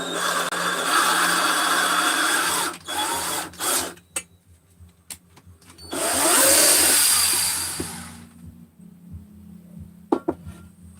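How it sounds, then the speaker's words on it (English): Threads tapped into a magnesium motorcycle crankcase (a Ratty 394) with a power tool: a loud, steady grinding whir for about four seconds, a few short bursts, then a second sustained run of about two seconds, followed by scattered light clicks. "Nice thing about magnesium, it taps nice and easy."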